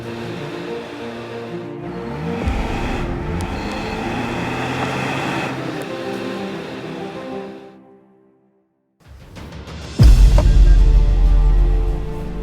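A 2025 Toyota Camry sedan driving: a steady road and engine rumble from inside or alongside the car, briefly dropping out to near silence before returning louder and heavier.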